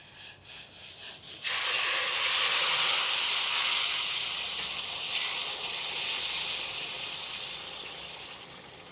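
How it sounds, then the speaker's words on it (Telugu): Hot water poured into a pot of freshly roasted semolina (rava) for kesari, erupting into a loud, sustained steamy hiss and sizzle that starts abruptly after a few soft clinks and holds steady to the end. "నీళ్ళు పోసేద్దాం."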